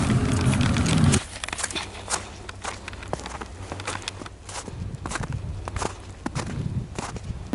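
Footsteps crunching through deep snow during a record-breaking snowstorm in southern Alberta, a steady rhythm of close, crisp crunches with no talk.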